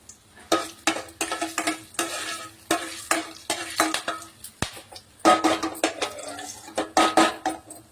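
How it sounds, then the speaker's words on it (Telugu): Whole spices fry and crackle in a pan for a Telangana-style gongura chicken, with repeated scraping stir strokes and clinks of a utensil against the metal, close and fairly steady throughout. "మసాలా దినుసులు మంచిగా ఫ్రై అయిపోవాలి ఫ్రెండ్స్"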